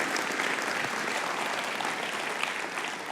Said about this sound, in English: So a round of applause for Eric and Brian and the rest of the team.